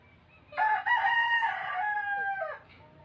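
A single rooster crows once, loud and drawn out, with the call trailing off at the end against a quiet background.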